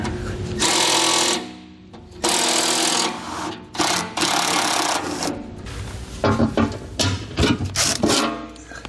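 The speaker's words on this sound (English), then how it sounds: "We're going to use a 1/2-inch socket. We're going to have 6 bolts that are going right across the back side here." Bolts holding a spare-tire heat shield on a truck underbody come out with a 1/2-inch socket, heard as loud, close bursts of whirring power-tool ratcheting, several long runs and then shorter choppy pulses.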